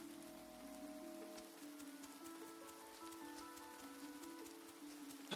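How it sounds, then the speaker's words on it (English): Steady, even rain falls in a calm village-building video game, a soft continuous patter with faint sustained musical tones underneath and no talking. "you'll pause because of the rain."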